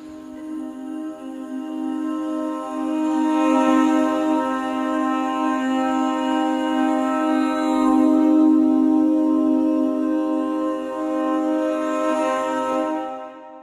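Sustained vocal texture samples from a choir-like sample library, swelling and easing in a crescendo and decrescendo, a loud, rich harmonic pad that rises and falls over several seconds.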